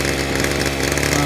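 A Ryobi 30cc gas string trimmer engine running rough and idling a little high, a loud, close, buzzing two-stroke drone that holds steady throughout.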